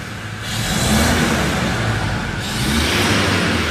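A Toyota Innova Crysta engine is revved through a newly fitted exhaust and down pipe, giving two loud rising swells of throaty engine roar, close by, with a steady idle rumble between them.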